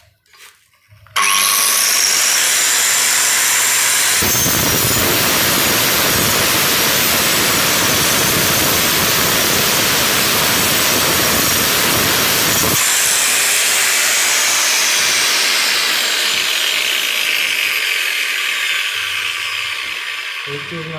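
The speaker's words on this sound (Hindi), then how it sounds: "आप जब ये ग्राइंडर पे लगा रहे होंगे इस तरह" Angle grinder cutting through a brick block: it starts abruptly after a second of quiet and becomes a loud, continuous, close-up hissing whine. The sound grows heavier while the disc bites into the block, then eases to a steadier, slightly fading whir, with no talking.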